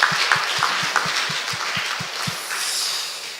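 Congregation applause in a church during a Sunday worship service after the choir's hymn, a steady wash of many hands clapping that carries on evenly for several seconds with a faint rhythmic low thump beneath it.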